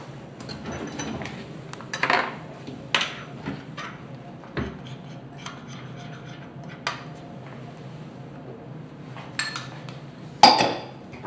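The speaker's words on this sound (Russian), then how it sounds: "Разрыхлитель смешаю с мукой." Flour and baking powder mixed in a bowl for pea-flour pancakes make intermittent clinks and scrapes of a utensil against the bowl, fairly close, with quieter rubbing between and a sharper knock near the end.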